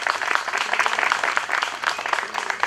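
A room full of people applauding at the opening speeches of a traditional halva day event in Eğirdir, steady dense clapping held at a constant level for the whole stretch, close and lively.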